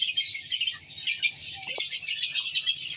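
Pet budgerigars, green opaline split ino birds, chirp and twitter in a busy, continuous chorus. The calls are high and close, with rapid overlapping tweets and a brief softer dip partway through.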